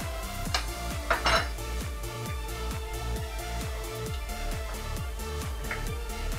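Pancake batter of flour and a pinch of salt being stirred in a bowl, a steady rhythmic clatter of utensil against the bowl, roughly two strokes per second, close and moderately loud with a few sharper clinks.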